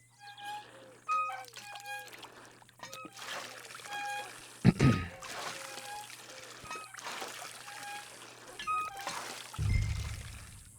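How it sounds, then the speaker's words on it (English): Hand water pump worked at a ranch in Red Dead Redemption II, its squeaking strokes and gushing, pouring water rising and falling in a few bursts under game ambience and birdsong. "Water pump. Pump that water."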